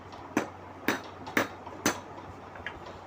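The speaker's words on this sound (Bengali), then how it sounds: "দায়ের খুরপি বানানো হচ্ছে।" A blacksmith hammers out a khurpi blade with several sharp metallic strikes at an uneven pace, followed by a fainter last tap, heard at moderate distance over low background hum.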